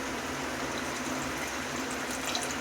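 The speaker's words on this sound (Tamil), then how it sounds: "புளி தண்ணி எடுத்து சேர்த்துக்கலாம்." Tamarind water streams steadily into a pot of dried fish curry, a continuous close pouring and gushing of liquid with no talk.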